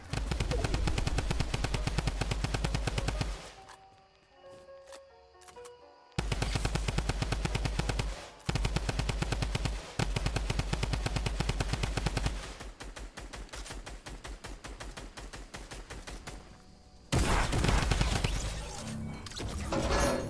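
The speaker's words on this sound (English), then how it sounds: "the best one is likely holding the W key and killing someone with a drum gun" Drum gun bursts in the video game Fortnite: rapid, loud automatic fire in long sustained strings, broken by short pauses, with quieter gaps and a slightly softer run of shots midway.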